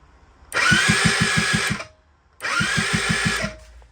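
A Suzuki Lets 2 scooter with no spark cranks its engine in two loud, close bursts of starter whirring, each about a second long with a rapid chugging pulse and a short pause between them.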